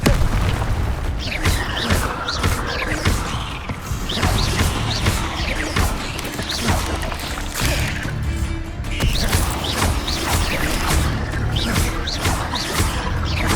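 Incendio fire spell bursts in Hogwarts Legacy, fought in the Forbidden Forest: repeated loud whooshing impacts and booms in quick succession, dense and close, mixed with crashes and other spell effects.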